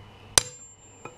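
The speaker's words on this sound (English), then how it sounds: "so I've got this cheap-ass nail hammer" Cheap nail hammer striking to knock out cardan shaft bushings on an Audi TT, one sharp loud metallic blow with ringing decay followed by a fainter second tap.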